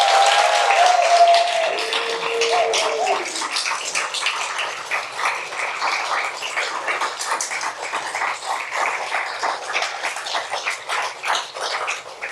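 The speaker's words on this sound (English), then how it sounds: "How about a round of applause for our readers here tonight?" An audience claps for the readers at a literary reading by emerging writer fellows, a sustained spatter of many hands that slowly thins and fades, with a brief tonal sound near the start.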